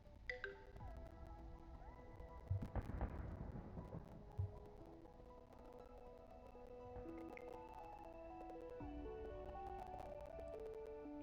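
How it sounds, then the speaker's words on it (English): Low, distant thunder-like rumbling in the strategy game Universim, with a couple of heavier booms in the first few seconds and then a steady low drone, plus scattered faint clicks and tones. "It sounds like thunder or something."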